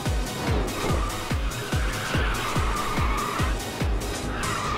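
A car drifts hard through corners in the racing game Ridge Racers 2 on PS5, its engine droning loudly while a rapid series of sharp tire skids repeats roughly every half second.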